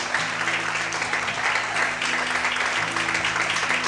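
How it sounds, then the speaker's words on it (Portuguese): Worshippers in a church keep clapping in a continuous, even patter, with sustained musical tones humming underneath at moderate level. "Mais aplausos para Jesus."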